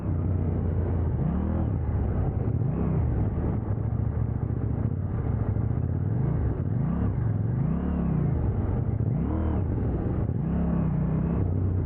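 A KTM Duke 790 motorcycle engine revs hard over and over, its pitch sweeping up and dropping back in repeated throttle blips over a steady loud rumble, close by and with no talk.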